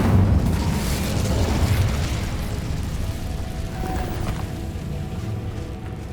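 A fire spell cast in Hogwarts Legacy gives a broad, rumbling burst with a low roaring wash that holds steady and then slowly fades over a few seconds of game ambience.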